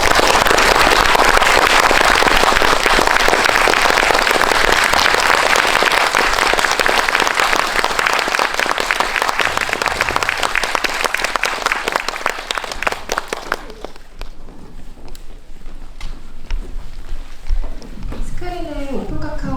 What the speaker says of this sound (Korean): 미야케쇼 감독님 그리고 키시유키노 배우를 큰 박수로 맞이해주시기 바랍니다